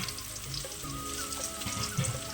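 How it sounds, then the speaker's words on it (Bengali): Pumpkin slices fry in a pan in a home kitchen, giving a faint, steady crackling sizzle with small pops, heard quietly and without voices. "আর এখানে দেখো কুমড়ো ভাজা হচ্ছে, এই যে।"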